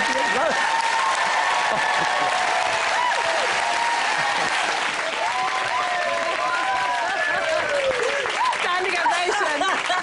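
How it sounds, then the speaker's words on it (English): A studio audience at a ballroom dance show gives a standing ovation, loud sustained applause and cheering, with whoops and voices calling out over the clapping throughout. "standing ovation."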